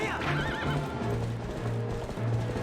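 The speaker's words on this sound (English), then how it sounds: "This horse riding is bullshit on the Wii U." A horse in the video game Zelda: Twilight Princess whinnies at the start, with repeated clip-clop hoofbeats of galloping continuing beneath faint music.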